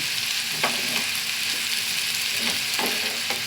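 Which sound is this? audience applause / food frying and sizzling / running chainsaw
food frying and sizzling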